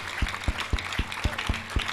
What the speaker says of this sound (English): Clap for Jesus. A big clap offering to Jesus.